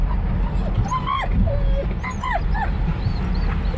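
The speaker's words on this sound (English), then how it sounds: "he gets the dogs riled up. And then they end up barking in my ear" Several dogs yip, whimper and whine in short, rising cries inside a car, with constant road rumble beneath them.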